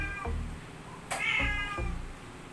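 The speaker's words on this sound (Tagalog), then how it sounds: "Gagawin na naman yung pusa ko pag napapakinggan yung boses ko." A pet cat meows several times in a row, close and clear, each call a drawn-out tonal cry against a quiet room.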